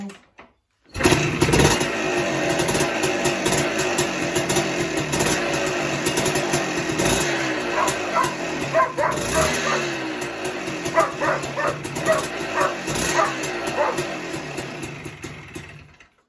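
Dog barking repeatedly near a running Kawasaki F5 350 Big Horn rotary-valve two-stroke motorcycle engine, sharp yips cutting through the steady loud engine drone.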